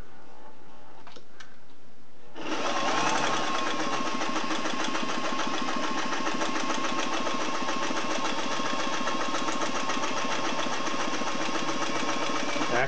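A Singer 503A slant-needle zigzag sewing machine stitches vinyl-backed cloth, starting after a couple of quiet seconds with a few soft clicks, then running as a steady, close, loud mechanical whirr with a rapid even ticking.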